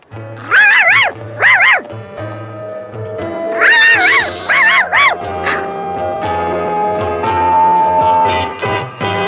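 A dog barks in short loud pairs up close, with further barks and yips over a busy background of music and other noise.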